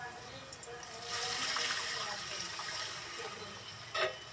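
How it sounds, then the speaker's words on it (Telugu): Water poured from a glass into a pot for cooking rice, a soft rushing splash that swells for a couple of seconds and then tapers, with a brief clatter near the end, close by and fairly quiet. "ఇప్పుడైతే ఎసరైతే పోస్తున్నాం."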